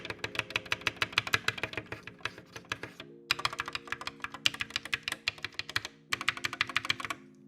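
Rapid typing on an SK61 mechanical keyboard with lubed stabilizers, close and clear, bursts of quick clacky keystrokes with a couple of short pauses and heavier thocks from the larger keys.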